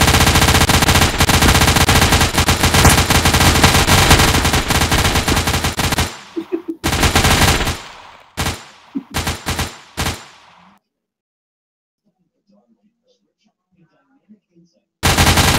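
Rapid automatic gunfire rattles loud and continuous in the video game Project Confrontation, then breaks into several short bursts before falling silent, with one final burst at the very end.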